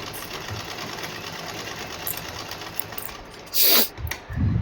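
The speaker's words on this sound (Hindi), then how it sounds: "ये देखो ये लगा दी है मैंने सिलाई" A sewing machine stitches the neckline of a garment, running in a steady close whir for several seconds before a brief louder burst and a few short stops and starts.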